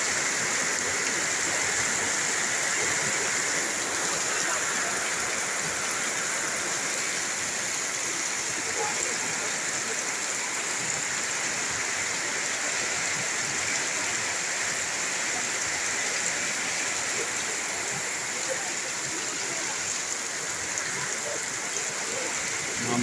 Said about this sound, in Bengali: কঠিন বৃষ্টি হইতেছে।